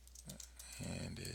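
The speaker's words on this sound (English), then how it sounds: "we're going to type in here the title" Keys clatter on a computer keyboard while a webpage title is entered, a short burst of close, soft clicks that thickens in the second half over a low steady hum.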